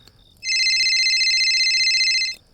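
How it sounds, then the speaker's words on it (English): A phone rings with one continuous electronic trill, loud and clear against near silence, starting abruptly and cutting off after about two seconds. "My phone rang, making me jump."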